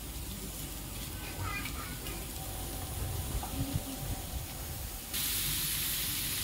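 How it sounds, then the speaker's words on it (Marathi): Chopped onion cooking in oil on a hot tawa gives a steady broadband hiss and sizzle. Faint clatter is heard partway through, and the sizzle grows suddenly louder near the end. "इथे तवा छान तापलेला आहे, आता त्यावर कांदा घालून हलकासा असा मऊसर शिजवून घेते"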